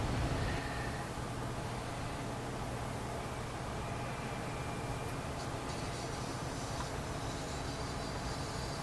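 A train in American Truck Simulator near Hutchinson, Kansas, a steady broad rumbling wash of rail noise that stays loud and even throughout, with no talking.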